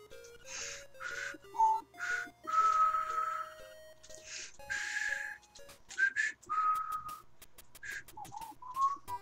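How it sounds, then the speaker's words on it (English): A person whistles a halting tune of short and held notes over Game Boy-style chiptune music from The Legend of Zelda: Link's Awakening DX, with brief pauses between phrases. "I suck at whistling."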